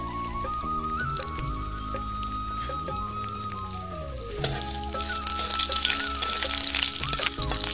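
Black mustard seeds, black cumin, white cumin, curry leaves and a green chilli sizzle and crackle in hot oil for dhokla tempering, a steady close fizz under background music.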